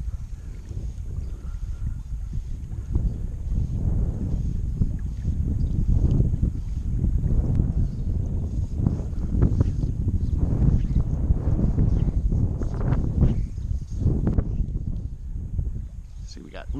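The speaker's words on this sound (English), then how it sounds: "Kind of tough to cast against this wind here." Gusty wind buffets the microphone in steady low rumbling waves while fly fishing for bass against the wind, loud and continuous throughout with no clear speech.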